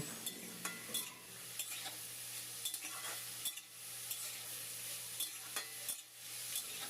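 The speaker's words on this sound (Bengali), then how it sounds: "গ্যাসটা হাই ফ্লেমে করে বিটটা একটু তেলে নাড়াচাড়া করে ভেজে নেব" Chopped beetroot stir-fried in a little oil over a high gas flame, a spatula scraping and tapping the pan at a brisk, regular pace over a soft sizzle. Fairly quiet and close, with no voices.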